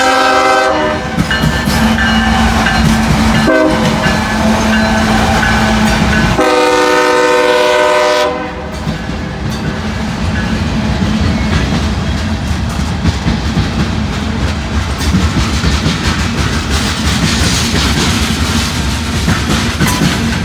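A train on a long rail route sounds its horn in several long, loud blasts, then rumbles past close by with steady clattering wheels and rolling noise that continues to the end.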